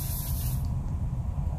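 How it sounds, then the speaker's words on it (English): Compressed air blowing steadily while cleaning a disassembled main engine accumulator, a continuous close hiss that stays level throughout with no talking. "You must use the compressed air for cleaning of the accumulator"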